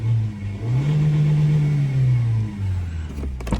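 A 2022 Lexus UX 200's 2-liter naturally aspirated four-cylinder engine starts up with a close, steady droning hum that rises, holds and then settles to a lower idle, loud and without talk.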